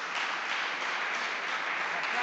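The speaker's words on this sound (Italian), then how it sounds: "L'applauso è perché hai finito, cioè è perché è finita la storia" Steady applause from an audience at a reading of Pulci's Morgante, a dense even wash of clapping lasting the whole moment, moderately distant and without pauses.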